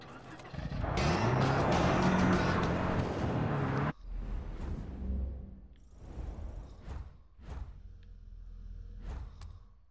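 A hatchback car in Far Cry 5 roars loudly up close for about four seconds, then settles into quieter engine and road noise punctuated by a few bumps and clatters.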